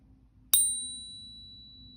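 A fake silver bar struck once, producing a sharp high metallic ping with a sustained, thin ringing tone that gradually decays in an otherwise quiet room.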